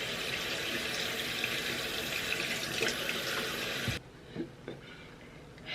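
Water runs steadily from a bathroom tap into a sink while someone washes their face, a loud continuous hiss that cuts off abruptly, leaving a few faint splashes and drips.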